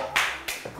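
Three or four separate hand claps sound close by with short gaps between them, loud and sharp with nothing else underneath.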